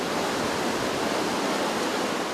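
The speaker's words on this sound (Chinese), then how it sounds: "冲刷而下的瀑布激起大片水花" Baishuiquan waterfall in Muzi village, Shanlin township, with water plunging down a rock wall into heavy spray, a loud, even, unbroken rushing roar that fills the whole moment.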